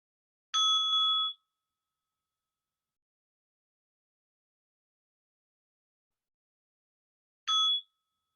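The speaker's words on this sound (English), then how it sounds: "Let's receive the sound of the bell." A meditation bell is struck twice about seven seconds apart. Each strike gives a clear, ringing metallic tone that fades quickly, set in near silence and heard softly.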